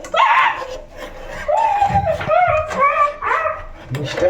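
A dog yelps and whines in a series of short, high, pitched barks, close and fairly loud, with brief pauses between.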